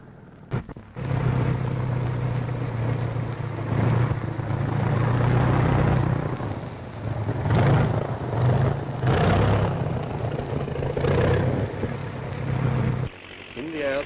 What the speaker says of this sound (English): the first takeoff.